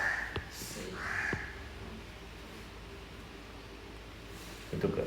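A crow gives two loud, harsh caws close by at the start, followed by quieter rustling and faint background noise, with a brief sound at the end.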